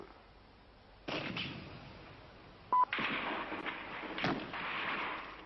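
A sharp gunshot cracks out, followed by further bursts and bangs echoing at a distance over a dull background.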